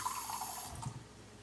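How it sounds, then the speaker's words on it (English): Water from a tap runs briefly into a container while mascarpone cheese is being made, a short close splash that fades quickly. "And then I'm just gonna add a little bit of water"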